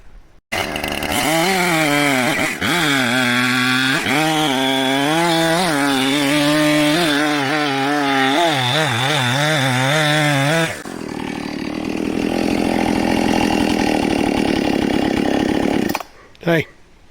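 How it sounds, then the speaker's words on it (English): A chainsaw close by, felling 70-foot trees for lumber, revs and bogs with a wavering pitch as it cuts, then drops into a lower, steady roar before stopping. "But you're out here cutting lumber."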